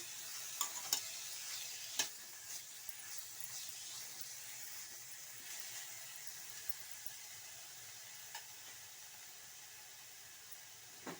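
Radish palya being stirred and mixed in a pan, a soft continuous sizzle with a few light scraping clicks of the spoon against the pan, fairly quiet and steady.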